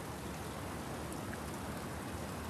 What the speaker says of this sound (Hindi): लेकिन ये हमारी पहली बारिश है।